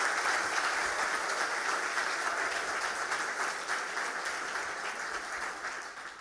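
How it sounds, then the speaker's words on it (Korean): A church congregation gives a warm round of applause for the performers, an even wash of clapping that slowly fades. "applaudir pour eux."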